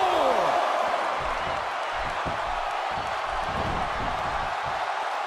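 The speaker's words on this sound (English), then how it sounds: "by the sound of this crowd, I think they're getting what they wanted" Arena crowd noise from the wrestling game WWE 2K16, a broad, sustained roar of cheering spectators that fills the background and holds steady throughout, with occasional thumps beneath it.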